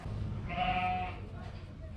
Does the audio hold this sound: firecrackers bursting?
no